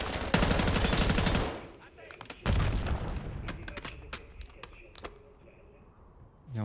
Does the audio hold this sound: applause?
no